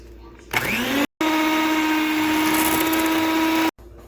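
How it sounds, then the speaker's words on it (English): Electric mixer creaming unsalted butter and sugar, a loud steady motor whine that starts, stops briefly, then runs continuously close up before cutting off. "We're just gonna cream it with our mixer."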